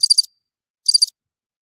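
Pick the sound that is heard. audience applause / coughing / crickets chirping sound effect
crickets chirping sound effect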